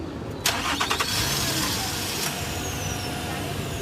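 A car engine cranks and catches, then settles into a steady running drone that continues to the end, close by and fairly loud with no talk over it.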